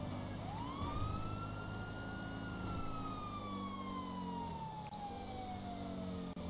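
Police car siren in Grand Theft Auto V wails with a long rising then slowly falling sweep, steady and fairly close, over a low engine hum with no talking.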